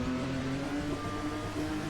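Assetto Corsa Rally car engine held steadily at its rev limit, a continuous buzzing drone with no voices.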